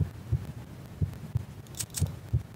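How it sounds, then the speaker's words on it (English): Heartbeat in a horror video game, a series of soft paired thumps repeating roughly every second and a half over a low hum, close and fairly quiet, with a couple of faint clicks. "The heartbeat's coming from right there on the other side of that wall."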